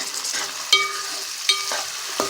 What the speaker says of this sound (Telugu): కట్ చేసుకున్న టమాటాలు కూడా వేసేసుకుందామండి వేసుకున్నాం కదండి ఒకసారి కలుపుకుందాం